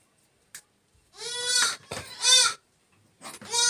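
Young three-month-old Black Bengal goats bleat in a few loud, harmonic calls of rising and falling pitch, close by, separated by brief pauses and a faint click.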